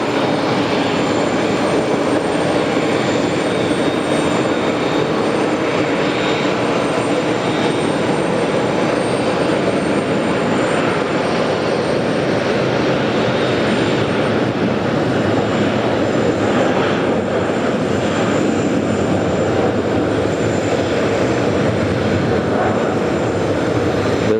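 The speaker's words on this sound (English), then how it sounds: "Takes off for her short flight to Incheon." A Boeing 747-8 jet airliner takes off at JFK, its engines a loud, steady, broad roar heard at a distance and sustained throughout, with no talk.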